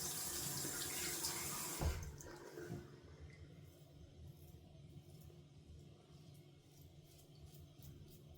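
Water running from a tap during a wet shave, a loud rushing stream that cuts off about two seconds in, leaving faint trickling and dripping.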